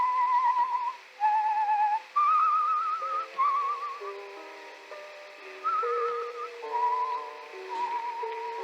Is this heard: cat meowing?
no